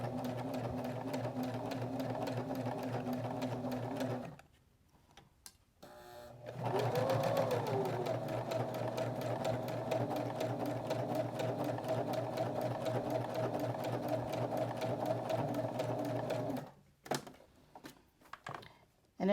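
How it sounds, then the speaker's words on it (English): Sewing machine stitching fabric for small car coasters, running in steady continuous bursts with a brief pause partway through and a stop near the end, close and clear. "I'm going to stitch a little bit, and as I do that I'm just going to kind of stretch that fabric with my fingers"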